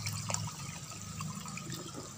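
Water poured into a container to top it up while mixing NPK Mutiara fertiliser, a steady close splashing fill that runs without pause and with no voices.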